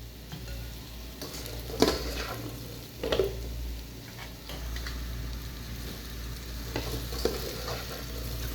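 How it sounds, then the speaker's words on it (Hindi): Besan-coated bhindi (okra) frying in a pan, dhaba style, with a soft continuous sizzle and occasional clinks and scrapes of a spoon stirring, fairly quiet and close. "हमने भिंडी को ओवर फ्राई नहीं करना, बस इसको थोड़ा सा फ्राई करना है"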